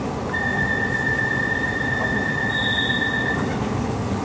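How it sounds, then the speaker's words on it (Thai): A Bangkok MRT Purple Line train runs with a steady, close rolling rumble throughout, and a thin, high-pitched squealing tone rises over it for a few seconds before fading. "Please mind the gap between train and platform"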